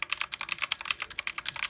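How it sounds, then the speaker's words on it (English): Fingers type quickly on a Redragon Kumara K552 RGB mechanical keyboard, a close, crisp stream of rapid clacky keystrokes in an uneven rhythm, with no voices. "Next, I got my Red Dragon keyboard, the Komora K552 RGBR."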